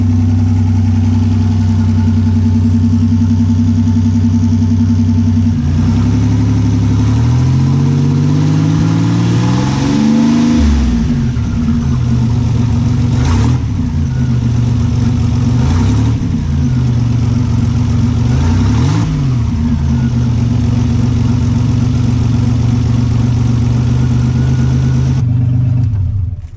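A loud car engine with a raw, open exhaust through a 5-inch RJC-replica downpipe idles, then revs up sharply several times, each rev climbing and dropping back to a rumbling idle.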